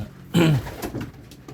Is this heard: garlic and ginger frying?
no